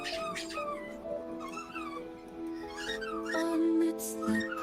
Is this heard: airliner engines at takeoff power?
no